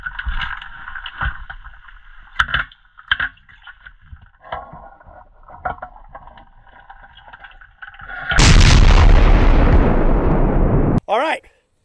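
A .50 BMG rifle fired underwater gives a sudden heavy, muffled blast followed by a loud roiling wash of churning water lasting a few seconds, after splashing and muted activity; a voice is briefly heard.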